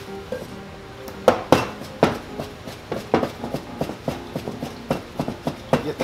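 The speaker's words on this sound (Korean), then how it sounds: "이거를 미리 잘게 씁니다." Chinese cleaver slicing chicken tenderloin on a board, a steady series of sharp knocks and taps close by with irregular rhythm.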